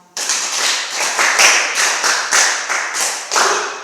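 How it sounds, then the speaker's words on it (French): A group of children claps close and loud in a series of rhythmic bursts, about eight distinct rounds of sharp hand claps, each swelling and fading, with no talk. "Applaudissez pour moi"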